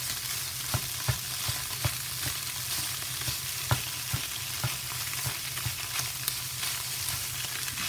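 Potatoes fry in oil in a pan for a vegan breakfast scramble, giving a steady close sizzle with scattered sharp pops and crackles and occasional stirring scrapes. No voices.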